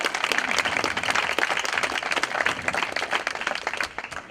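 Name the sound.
audience applause for the panel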